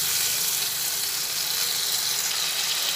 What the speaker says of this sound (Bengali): পেস্টটা তেলের মধ্যে দিয়ে একটু ভালোভাবে নাড়াচাড়া করে নিই।